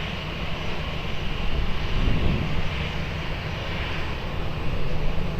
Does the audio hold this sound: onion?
no